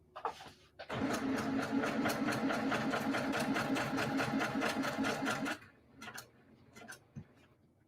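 A sewing machine stitches a quilt block, running in one loud, steady rapid whir of ticking needle strokes for several seconds, then stopping, followed by a few faint clicks and handling noises.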